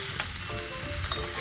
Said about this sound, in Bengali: আমি আমটাকে একটু ভালো করে নেড়ে নেড়ে একটু ভাজা ভাজা করে নেব।